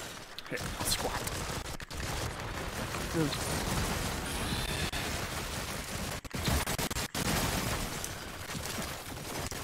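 Rapid gunfire and shooting in the horror video game After the Fall, dense continuous bursts running throughout under excited voice chat from several players.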